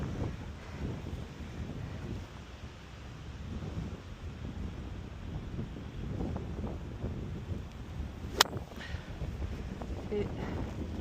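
Steady headwind on a golf course buffets the microphone in a low, rumbling rush that persists throughout, with a brief sharp click near the end.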